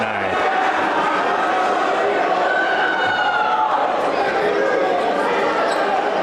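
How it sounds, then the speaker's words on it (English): Loud crowd noise fills a basketball gym during a game, a steady roar of cheering and chatter with squeaking sneakers and bouncing balls mixed in throughout. "Getting the crowd into it there with that."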